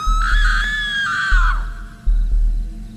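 A loud, close, drawn-out scream used as a horror story sound effect rises then trails off and breaks, followed by a low rhythmic thudding background.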